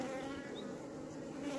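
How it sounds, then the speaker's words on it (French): Local honey bees buzzing around beehive supers during an apiary check, a steady low drone of many wings close by, continuous and even with faint passing whines of individual bees. "c'est les abeilles d'ici"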